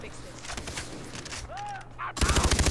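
Gunfire rattles through a Far Cry 3 co-op battle on a boat, with scattered shots and bursts, then a loud rapid machine-gun burst near the end, while players talk over the action.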